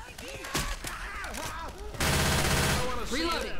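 Rapid gunfire in a survival video game, a quick sequence of loud shots that swells into sustained automatic fire midway, with a player's voice talking over parts of it.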